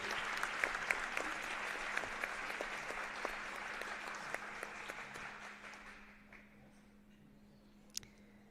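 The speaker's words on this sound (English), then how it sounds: "One more round of applause for these senior ladies and their parents." Applause at a high school girls basketball game honoring senior players and their parents, a steady crowd clapping with a few sharp claps that fades out over several seconds into a quiet gym.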